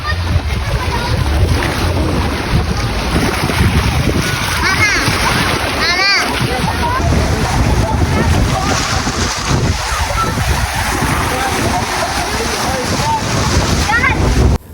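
Sea waves washing and splashing at a beach in Talisayan, a constant loud roar of surf with wind buffeting the microphone, while people talk and call out over the water.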